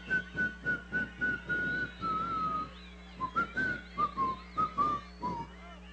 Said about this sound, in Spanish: Hay distintas formas de silbar.